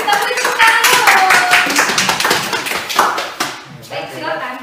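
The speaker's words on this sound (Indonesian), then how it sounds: "Kita beri tepuk tangan dulu." Classroom applause for a student group about to present, several hands clapping close by in a loose uneven burst that tapers off, with voices chattering over it.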